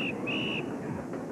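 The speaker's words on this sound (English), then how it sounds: "the lifeguard's coming near his whistle blare" A lifeguard's whistle sounds on a beach-themed TV game show, giving two short, shrill blasts, the second a little longer. Both are faint against a dense, noisy studio background.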